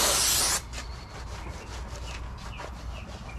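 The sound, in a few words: spraying brake cleaner on car parts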